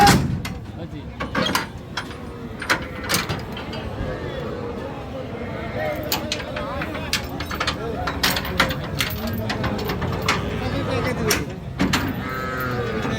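Bulls and cows at a crowded rural cattle market in Bangladesh low again and again over steady crowd babble, with sharp knocks and clatters scattered throughout.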